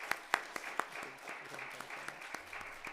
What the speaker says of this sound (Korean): 우리 귀한 목사님 보내주셔서 은혜 받게 하신 우리 하나님께 우리 감사와 영광의 박수를 한번 올려드리겠습니다.